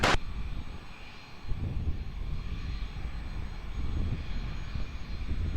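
A jet airliner sits on runway 20 at Lisbon Airport, its engines giving a steady, distant low rumble and roar that holds evenly throughout, with no voices.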